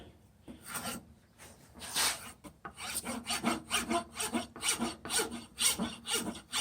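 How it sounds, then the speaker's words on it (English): Rough, rhythmic rasping of a rasp scraping back and forth across a wooden hammer handle, strokes coming in quick repeated bursts, close and fairly loud. "So this is what I do with the rasp here."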